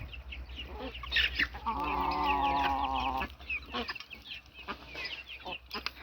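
Chickens cluck and squawk close by, with a longer drawn-out call in the middle and scattered clucks around it.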